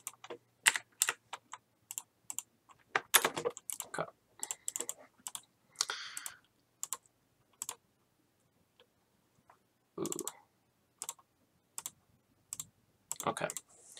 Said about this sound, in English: I'm actually just gonna make sure that I type this right